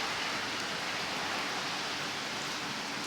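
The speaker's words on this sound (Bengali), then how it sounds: "প্রচুর বৃষ্টি হইতেছে।" Heavy rain pours down in Salalah, Oman, outside a small shop at evening, a dense, unbroken rushing wash of water that stays loud and steady throughout, with no voices.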